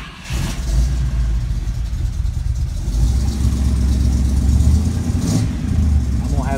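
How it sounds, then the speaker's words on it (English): A 1969 Ford F100 Ranger pickup engine runs close by with a steady, rumbling low idle and slight rises in revs, continuous and fairly loud throughout. "Make you guys a short video of the F100 starting and running."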